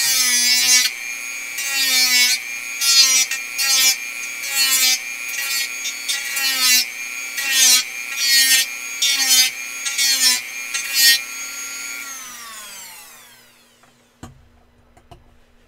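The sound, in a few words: Dremel rotary tool grinding 3D-printed flared magwell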